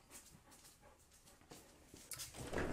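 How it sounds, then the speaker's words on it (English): A dog whimpers and pants softly while waiting to be let outside, faint intermittent whines close by that grow a little louder toward the end. "I am going to let the dog outside."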